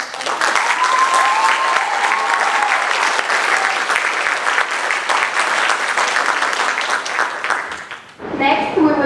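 At a Korea Corner grand opening, a crowd applauds loudly and steadily after a stage performance, with some voices in the mix; the clapping fades near the end and a voice begins speaking.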